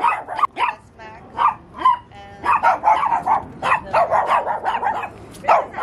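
Several small dogs bark and yip in rapid, uneven bursts, close and loud, with a few whimpering pauses between volleys, in a house after a hike to an abandoned tunnel.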